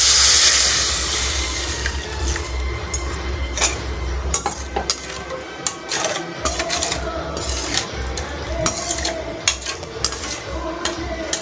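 Water sloshes as it is added to a pot for cheese noodles, and a utensil clinks and scrapes against the pot as the contents are stirred nearby, with no talking.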